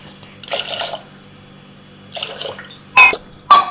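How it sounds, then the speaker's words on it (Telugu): Water poured onto moong dal in a pressure cooker: two short gushing pours, then two quick sharp splashes or clinks, close by in a quiet kitchen. "పప్పులోకి సరిపడా వాటర్ పోసుకోవాలి."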